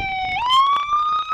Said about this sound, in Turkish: Sireni kapatacak bak biliyorsun.